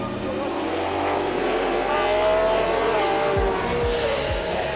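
GT race cars, a BMW M4 Silhouette and a Corvette, roar past on the final lap at Zolder in the 2015 Supercar Challenge, a loud sustained engine blare with rising and falling tones as they pass.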